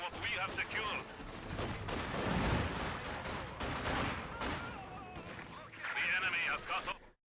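Machine gun fire in a Company of Heroes match crackles in repeated bursts of rattling shots, mixed with other battle noise and heard under a voice talking over it.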